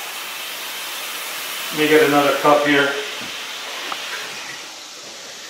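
Swiss chard greens steam and sizzle in a hot pan with added water, giving a steady hiss under brief nearby talk.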